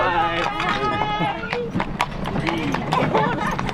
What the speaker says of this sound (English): Oh, this is the way to go on a Transylvanian horse carriage in the village.